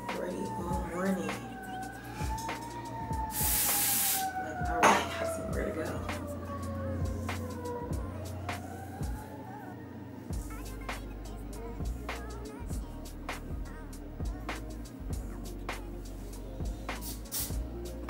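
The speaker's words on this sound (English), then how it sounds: "I've been really liking to do my baby hairs with just hairspray." Hairspray is sprayed onto baby hairs during a morning get-ready routine: one short, sharp hiss near the middle, surrounded by a person talking and light background noise.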